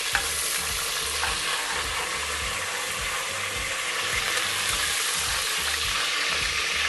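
Dry spices and finely chopped mint fry in hot oil for a vegetable dum biryani, giving a steady, close sizzle with soft stirring scrapes that continue throughout.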